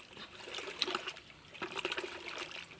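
Wood ash being stirred and mixed into water, a soft continuous trickling, sloshing liquid sound with small splashy bursts, close and fairly quiet, no talking.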